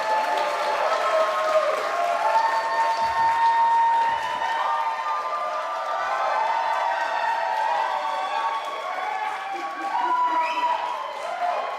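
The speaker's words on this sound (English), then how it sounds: "It's so not genuine that they're cheering like this" A crowd at the CitizenCon 2025 live event cheers and whistles continuously, a sustained wall of applause and excited voices filling the hall.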